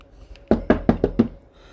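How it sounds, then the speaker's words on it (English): Five firm knocks land on a hotel room door in a quick, even series, close and clear against a quiet room. "there's a knock at the door"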